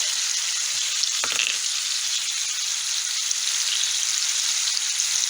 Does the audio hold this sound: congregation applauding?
no